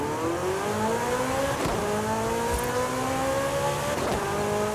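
A Porsche in the racing game Forza Horizon 5 accelerates hard, its engine note climbing in pitch through rising gear sweeps with brief shift breaks, loud and continuous with no speech.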